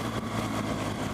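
A 2017 BMW R1200 GS Rally motorcycle's boxer engine runs in a steady low rumble, close and fairly quiet, with no talking over it.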